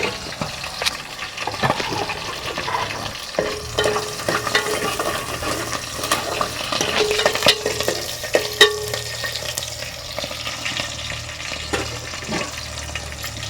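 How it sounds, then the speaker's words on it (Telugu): Curry leaves crackle and sizzle in hot oil with green chillies and onions in a pan while being stirred, giving a steady frying hiss broken by scraping and clinking of the spoon, close and continuous. "తర్వాత కరివేపాకు వేసిన తర్వాత ఒక 1/2 నిమిషం 5-10 సెకండ్లు కలియబెట్టుకోవాలి."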